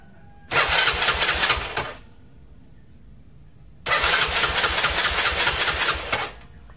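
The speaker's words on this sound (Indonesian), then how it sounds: "Dengan kita start motornya" A motorcycle engine is started twice while checking whether the pulser has failed, each time cranking and running loudly for about one and a half to two and a half seconds, separated by a quiet pause.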